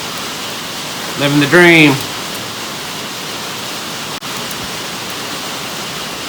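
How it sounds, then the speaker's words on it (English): Heavy rain pours down in a steady, dense hiss throughout, with a voice speaking briefly near the start. "Raining hard enough yet?"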